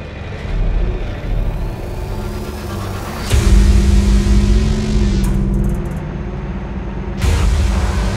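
Heavy rumbling engine of a huge video-game truck with 28 enormous wheels, a steady low drone that swells into louder revving surges partway through, with no talk over it.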